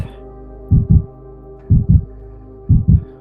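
A slow, heavy heartbeat: three pairs of deep, muffled thumps, evenly spaced about a second apart, over a low steady hum.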